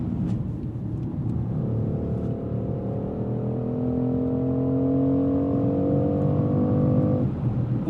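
A 2025 BMW X3 M50 with a B58 inline-six accelerates steadily, giving a low rumble under a rising engine tone heard from inside the cabin.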